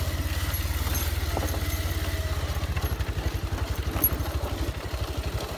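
Motorcycle engine running steadily through a bike ride, a low rhythmic thumping pulse that stays close and even throughout, with faint clatter and no talk.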